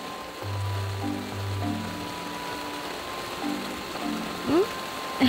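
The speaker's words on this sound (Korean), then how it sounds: "오늘처럼 이런 폭우가 내리는 날에는" A heavy downpour drums on a campsite on Ganghwa Island, a steady dense hiss of rain that continues without a break, with faint tonal sounds underneath.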